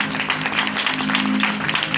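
Congregation applauding at a Wednesday healing prayer meeting, steady close clapping from many hands filling the room throughout.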